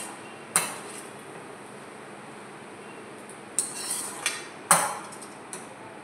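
A utensil stirs cooked dinner food in a pan after the gas is turned off, giving a few sharp metallic clinks and scrapes spaced out over quiet background.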